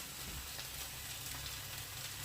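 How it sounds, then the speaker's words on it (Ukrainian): Steady, faint sizzling of a potato pancake topped with minced meat frying in a pan, a continuous soft crackle with no voices. "Дивимося, як смажиться, щоб не пригоріло."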